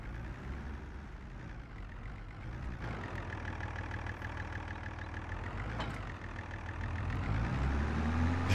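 New Holland tractor engine in Farming Simulator 22 idles with a steady low rumble, growing slightly louder and rougher toward the end, heard alone without speech.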